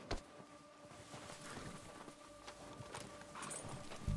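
Horse hooves walking at a steady pace in the video game Red Dead Redemption 2, a soft repeated clip-clop heard faintly under ambient outdoor game sound.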